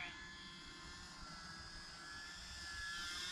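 An E-Flite UMX Carbon Cub SS radio-controlled airplane flies without its landing gear, its small electric motor giving a steady high whine with a constant drone and buzz that hold throughout.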